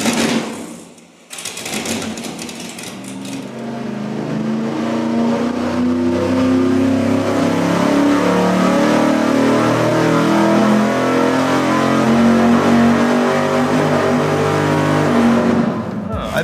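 A carbureted V8 engine running on a dyno, droning loudly and steadily with a rapid pulsing throb that builds after a brief quieter start and holds for over ten seconds.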